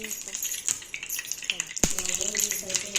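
Dosa paddu batter with finely chopped onions and coriander sizzles in oil on a hot pan. A steady hiss runs throughout, with scattered small clicks and one sharp knock partway through.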